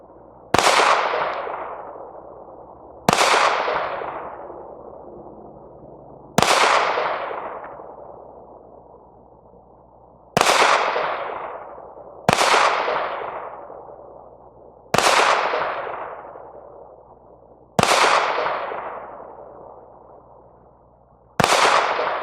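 Single shots from a S&W M&P 2.0 Compact pistol at an outdoor range, seven loud, sharp reports spaced a few seconds apart, each trailing off in a long echoing decay, with no talking.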